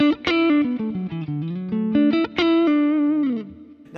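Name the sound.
electric guitar neck pickup, amp model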